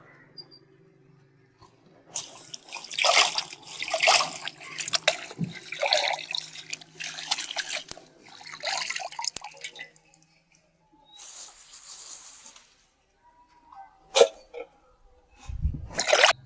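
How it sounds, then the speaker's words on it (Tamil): Drumstick leaves are rinsed and swished in water, heard as repeated bursts of close splashing and dripping with quiet gaps between them. "கீரையை அலசி எடுத்துக்கலாம்."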